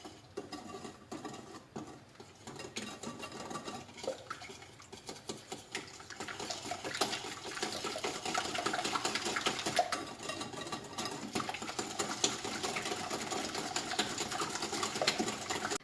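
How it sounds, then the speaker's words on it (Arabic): A lemon cream mixture of cornstarch and other ingredients is beaten with an electric mixer, a faint continuous whirring buzz that grows slightly stronger after the first few seconds and runs on without pause. "فوالا البنات كما كتشوفوا انا كنخلط مزيان، خلطت هادشي حتى ولا الخليط ديالي بحال هكا"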